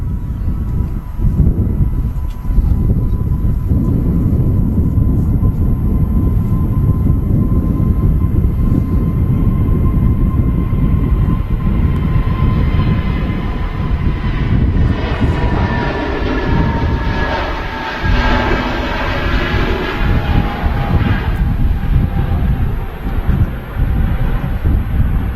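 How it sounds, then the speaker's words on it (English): A TAP Air Portugal Airbus A320neo departs Manchester Airport, a continuous jet rumble mixed with wind noise that swells midway as a rising whine and sweeping tones pass, then eases, with no talking. "There goes the TAP Air Portugal Neo back to Lisbon"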